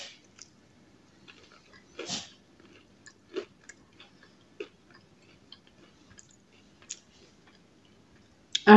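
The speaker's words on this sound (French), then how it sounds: "Ah, mais la petite croûte qui croustille." Crispy thin-crust homemade pizza being bitten and chewed close up, with scattered crunchy clicks and a louder crunch near the start, then quiet chewing and a sharp burst at the end.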